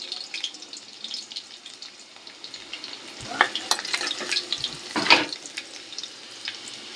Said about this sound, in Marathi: तेल गरम झालं आहे आता यात थोडं लसूण टाकते